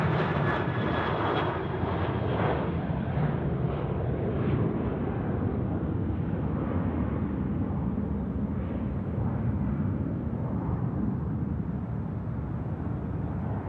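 A Virgin Australia Velocity Boeing 737-800 in from Perth landing on runway 34 left at Sydney Airport, a steady, loud jet roar holding broad and even throughout, fairly close, with no voices.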